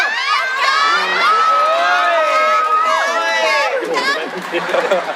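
A crowd cheers and shouts for contestants at a Thai Nopphamat beauty pageant, a dense, continuous wall of whoops and children's yells that stays loud through the whole stretch.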